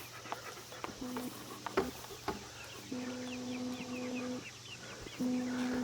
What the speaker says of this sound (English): We'll come over here and say hello to the chickens if Anubis don't scare them off